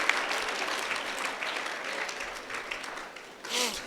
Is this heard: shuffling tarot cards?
no